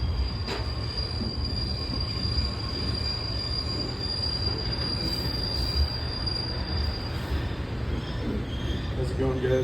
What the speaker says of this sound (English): I think the train is receding into the distance.